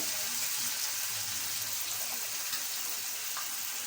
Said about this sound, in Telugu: దాన్ని ఇప్పుడు టమాటా వేసి బాగా మెత్తగా మగ్గిన వరకు వేయించుకోవాలి.